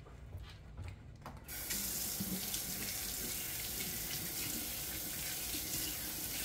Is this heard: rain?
no